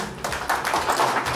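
Short burst of audience clapping at a municipal ceremony honoring public cleaning staff, a dense patter of many hands close by with no voices.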